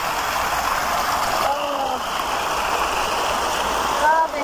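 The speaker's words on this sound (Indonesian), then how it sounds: "Air terjunku sudah kering guys, tak ada banyak air." A small garden waterfall runs low on water, giving a steady, close, hissing trickle that fills the whole stretch without pause.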